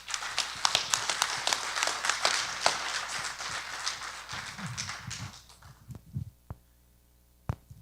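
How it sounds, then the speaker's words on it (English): An audience applauds at a community outreach presentation about Clear Lake hitch fish. Dense clapping runs for about five seconds, then breaks into a few scattered claps and thumps before falling quiet. "let's give her a round of applause"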